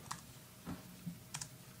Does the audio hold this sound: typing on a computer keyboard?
yes